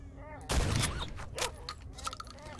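Shotgun loaded with buckshot firing in the video game STALKER: Shadow of Chernobyl, a sharp loud blast followed by a rumbling tail and smaller later shots, with creature noises around.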